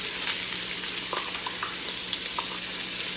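Onion frying in a pan with Italian sausage, a steady close sizzle and crackle with scattered pops and light scraping, no talk over it.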